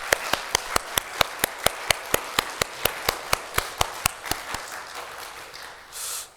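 A church congregation claps in unison during a Sunday service to bless mothers. The even, rapid beats are crisp and regular, run for about four seconds, then stop.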